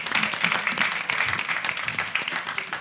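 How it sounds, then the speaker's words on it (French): A studio audience applauds the candidates with brisk, fairly quiet clapping that holds steady for a few seconds. "je voudrais qu'on applaudisse encore pour les candidats"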